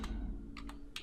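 Quick, close clicking of fingers typing a command on a computer keyboard, a handful of distinct keystrokes in a brief burst.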